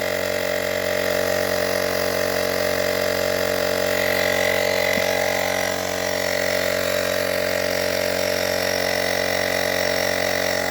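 A small handheld Temu tire compressor pumps up a tire, making a steady, loud, close motorized whir and buzz that runs unbroken throughout with no pauses.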